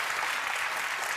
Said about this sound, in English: Yes, we got some applause